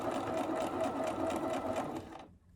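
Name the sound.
sewing machine back stitching a fabric mask pleat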